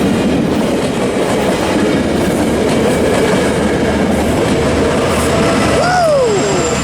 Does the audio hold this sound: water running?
no